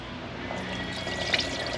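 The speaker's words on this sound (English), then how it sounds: "Yeah, that's all water dripping out of there" Water runs out of a 2000 Ford F150 4x4 radiator into a drain pan, making a continuous close trickle with small splashes and one brief brighter splash.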